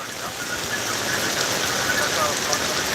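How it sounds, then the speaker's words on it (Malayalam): Very heavy monsoon rain in Idukki pours down in a dense, steady roar, continuous and close with no letup. "ഇന്നത്തെ അവസ്ഥ എന്ന് പറഞ്ഞിട്ടുണ്ടെങ്കിൽ അതിശക്തമായ മഴ തന്നെയാണ്"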